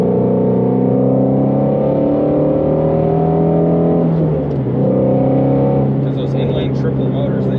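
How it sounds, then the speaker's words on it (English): A 2020 Ford Mustang GT350R engine revving loudly, a sustained harmonic roar that climbs in pitch, dips briefly around the middle and rises again, heard from inside the car with someone talking over it. "And a GT350, it just begs to rev."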